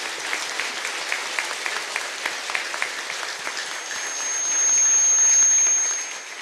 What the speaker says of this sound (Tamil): ஒரு ரவுண்ட் அப்ளாஸ் பத்தாது